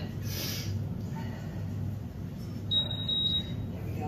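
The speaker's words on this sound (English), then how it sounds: "wait for the beep." Electronic workout interval timer beep during a strength and conditioning deadlift session, a steady high tone lasting under a second, heard alone over quiet room hum.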